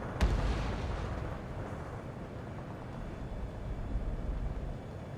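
Bombs exploding in the Ace Combat 7 video game, a sharp blast at the start rolling into a deep sustained rumble of further distant explosions.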